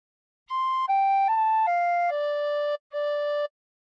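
A tin whistle plays a phrase of the sea shanty What Shall We Do With the Drunken Sailor, six clean, pure notes blown one after another with a short gap before the last, near and alone.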